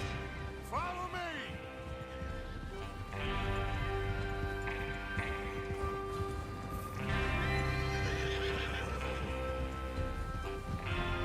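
Horses whinny loudly and hooves clip-clop in the video game Red Dead Redemption 2 during a train robbery mission, with a couple of long neighs over steady galloping, light rain and a voice speaking in the background.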